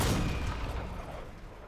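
A single heavy Scorpion weapon shot fired at a generator in a video game, a loud boom at the start that decays into a rumbling tail over about two seconds.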